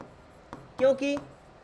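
Handwriting during a physics lesson: two brief, squeaky strokes close together, then quiet, in an otherwise still room.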